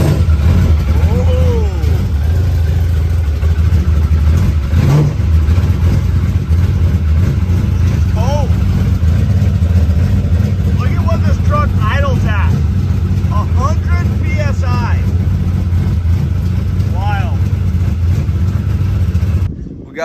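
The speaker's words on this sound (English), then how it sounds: "Let's get the Toyota fired up, just double check all the levels" A Toyota drift truck built to rev to 10,000 RPM runs loud and steady, its engine droning continuously throughout with some rising and falling notes, while people talk faintly over it.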